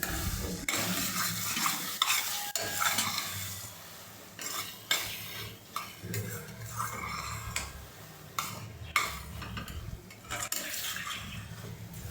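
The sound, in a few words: continuously stirring carrot halwa while cooking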